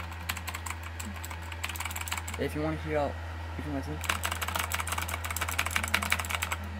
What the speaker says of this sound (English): And this is my keyboard.